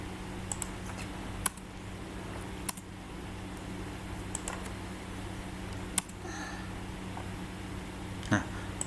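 Sparse keystrokes on a computer keyboard during Android programming work, single clicks spaced a second or more apart over a low steady hum, close and fairly quiet.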